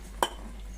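A cooking pan is set down on a stove with one sharp metallic clank, followed by a quiet background hum.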